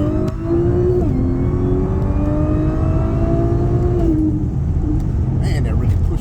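A supercharged C7 Audi A6 3.0T with Stage 2+ tune, E40 fuel and ported supercharger accelerates hard, its engine note climbing through gears with a rising whine, a brief shift dip, then steady roar heard from inside the cabin.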